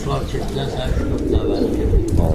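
Pigeons kept as breeding birds coo in soft, repeated low calls through the whole short stretch, close by and steady amid general loft noise.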